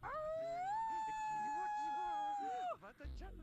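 A werewolf Sim in The Sims 2 lets out one long, loud, sustained howl that rises then holds steady for nearly three seconds before breaking off, followed by a brief low thump.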